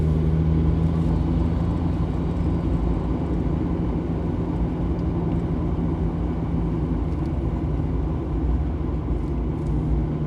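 A car drives the scenic road through Colorado National Monument, a steady, close engine and road rumble holding even for the whole stretch with no voices.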